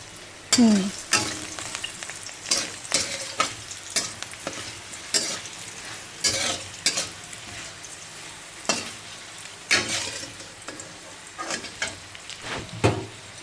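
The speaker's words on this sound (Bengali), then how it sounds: "আলু ভাজা হয়ে গেছে।" Potatoes fry in a pan of oil, giving a steady sizzle broken by repeated loud scraping stirs that recur every second or so. No voices are heard.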